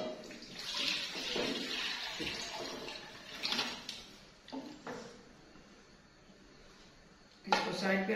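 Chicken soaked in salted water is poured with its water into a karahi pan, giving a sloshing, splashing rush close by that swells and fades, with a louder splash near the end amid kitchen clatter.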